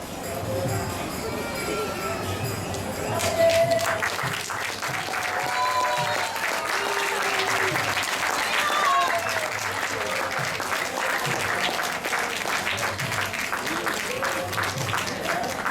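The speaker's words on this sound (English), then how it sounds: "Please give them a very, very big round of applause" An audience at a temple cultural festival in Atlanta breaks into sustained applause after a stage performance, a thick, continuous wash of clapping from many hands that swells and holds, with voices mingling in the crowd.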